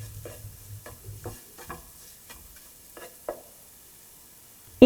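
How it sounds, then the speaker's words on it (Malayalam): Kashmiri chili powder is sautéed with beetroot in a pan, with a quiet sizzle under repeated scraping strokes of a spatula, close and intermittent, ending in a sharp knock. "കാശ്മീരി മുളക് പൊടി എന്നിവയിട്ട് നന്നായിട്ട് വഴറ്റുക."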